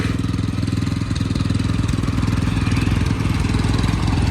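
A Mitsubishi V3 cultivator runs in first gear, throwing soil, its engine chugging in a steady, loud, close rhythmic drone throughout with no pause.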